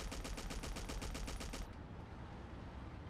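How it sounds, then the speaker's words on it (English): Gunfire in the video game Battlefield 1942 comes as a rapid automatic burst of evenly spaced shots for about a second and a half, then fades into a faint rumbling tail, fairly quiet overall. "My teammates are shooting me."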